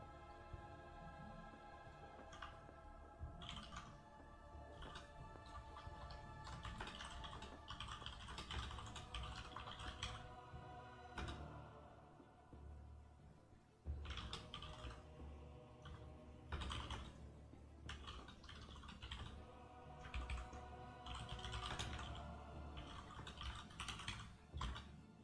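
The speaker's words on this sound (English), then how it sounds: "I'm just typing a message to a guy to see" Steady computer keyboard typing at close range, rapid irregular keystrokes running for about 25 seconds with short pauses between bursts.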